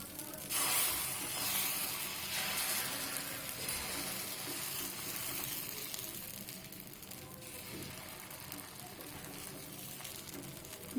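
Pitha batter spread thin and frying in hot ghee on a pan, a steady soft sizzle and crackle running throughout, fairly close and even in level, with no talking over it.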